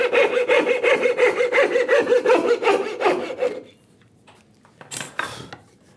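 A coping saw cuts wood for a dovetail joint with a quick run of short, evenly spaced rasping strokes up close, then stops, followed by a few faint scrapes and knocks of wood being handled.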